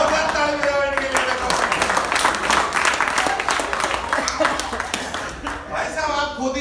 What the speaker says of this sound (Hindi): जोरदार ताली बजाओ इनके लिए।